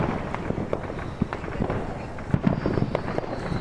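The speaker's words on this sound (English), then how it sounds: "Boy, I love fireworks." Distant fireworks over the harbor at Atlantic Highlands, New Jersey, going off in irregular pops and cracks, some bursts doubled, over a constant outdoor hum.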